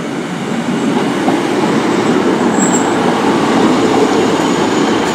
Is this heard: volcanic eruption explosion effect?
no